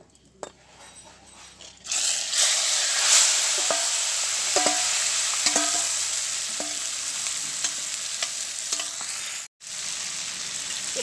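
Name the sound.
marinated chicken frying in oil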